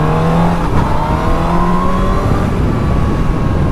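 A motorcycle engine with a quick shifter revs and downshifts on twisty roads on a sunny ride, pitch sweeping steadily upward under continuous wind-blown engine drone.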